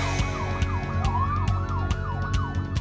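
A police car siren wails loud and close in a fast, repeating up-and-down yelp, with rapid rhythmic pulses cycling steadily under it and no voices.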